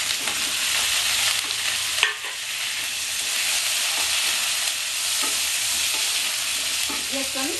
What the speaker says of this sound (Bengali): আলুটা আমার ভাজা ভাজা হয়ে গেছে, এবার আমি বেগুনটা দিয়ে দেবো।